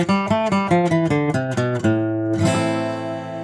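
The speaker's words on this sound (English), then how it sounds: "the natural minor will sound like this" A scale of eight tonal notes played in the natural minor, rising step by step at an even pace, with the last note held and ringing out; clear and close, with no talk.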